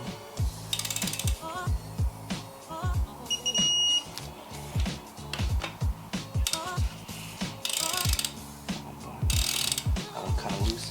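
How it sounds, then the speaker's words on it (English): A torque wrench ratcheting as it tightens rod bearing cap bolts on a Mazdaspeed engine, with repeated bursts of close clicking in an irregular rhythm and a few sharp beeps, under occasional talk. "make sure when you're torquing down bolts, you're not doing it in a sloppy motion"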